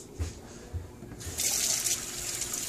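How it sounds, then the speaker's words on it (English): A fork is rinsed under a running kitchen tap after whisking raw egg, with soft water splashing that swells into a brighter, louder stream partway through, with no talking. "Rinse your fork."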